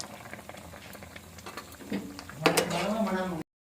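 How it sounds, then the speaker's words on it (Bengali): Cornflour paste stirred into bubbling cauliflower Manchurian gravy in a pan: steady simmering bubbles with scraping and clinking of a spoon against the pan, growing louder toward the end, while someone speaks softly. "এখন আমি কর্নফ্লাওয়ারের পেস্ট দিচ্ছি, গ্রেভির জন্য পেস্ট দিয়ে দিলাম।"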